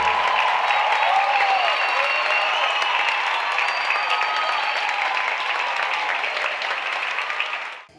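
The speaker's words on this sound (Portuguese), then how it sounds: "a plateia aplaude de pé e com louvor o trabalho realizado" A theater audience gives a standing ovation after a children's ballet performance, dense sustained applause filling the hall, steady and loud before dropping off abruptly at the end.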